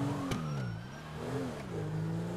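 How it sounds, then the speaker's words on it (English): A police siren from the game GTA wails with rising and falling pitch sweeps, layered with steady car engine drone and revving, continuous and fairly loud throughout. "Unless that was literally just a GTA siren being played or something."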